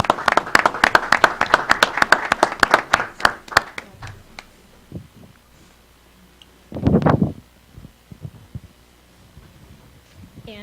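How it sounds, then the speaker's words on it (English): Applause from the audience at a Board of Selectmen meeting as award recipients are honored: a burst of hand claps that fades out after about four seconds, then a few scattered claps and a short bump of room noise. "Yeah, clap for her."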